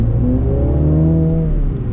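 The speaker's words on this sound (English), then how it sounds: "We'll get one little acceleration." A 2024 Mini Cooper Clubman John Cooper Works accelerating hard, its engine note rising steadily in pitch through a loud, continuous pull lasting about two seconds, with no talking.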